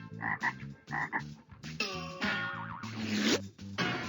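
Cartoonish frog croaks from the You Don't Know Jack video game, a series of loud, rhythmic ribbits with a springy boing, played over a busy musical backing with no talk.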